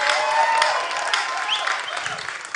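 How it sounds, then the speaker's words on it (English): Audience applause at a storytelling night in Ghana, a steady wash of clapping from a crowd that carries on for a couple of seconds at an even level, with faint crowd murmur and no speech over it. "Give them a clap."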